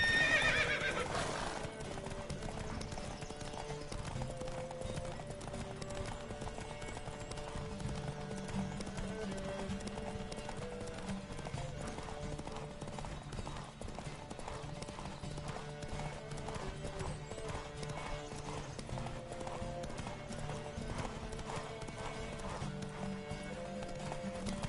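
Rapid clip-clop of galloping hooves with horses neighing during a horse race in The Witcher, loud and continuous over a steady background of music and game sounds.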